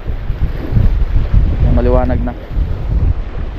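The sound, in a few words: strong wind of the amihan monsoon by the sea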